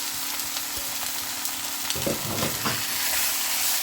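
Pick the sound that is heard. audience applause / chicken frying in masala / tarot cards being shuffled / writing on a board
chicken frying in masala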